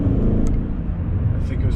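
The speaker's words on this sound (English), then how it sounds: "one of the absolute best sounding E39 M5 exhaust systems I've heard ever" A BMW E39 M5 V8 rumbles through an aftermarket Tubi muffler exhaust system, giving a deep, steady, throaty drone that holds close and loud for a moment with no talking.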